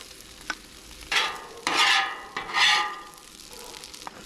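Browned meat and rice are stirred on a Blackstone griddle, with scraping strokes rising over a low sizzle in a few close bursts.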